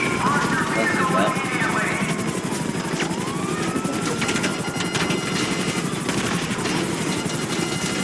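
Hunter attack helicopter in GTA 5 flying with its rotor chopping steadily and loudly, short bursts of gunfire and whooshing sweeps over the top, while a person talks throughout.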